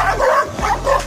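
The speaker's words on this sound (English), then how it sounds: "Also known as the Central Asian Shepherd Dogs, which originated from Central Asia, are the oldest existing dog breed." A Central Asian Shepherd Dog gives a few short, deep barks and yips in quick succession, loud and close.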